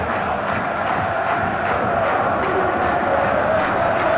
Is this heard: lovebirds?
no